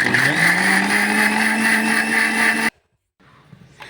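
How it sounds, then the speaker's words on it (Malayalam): A mixer grinder blending mayonnaise whirs loudly with a steady high motor whine, then cuts off abruptly and leaves near silence with a faint clatter. "ഇനി മിക്സി ഓൺ"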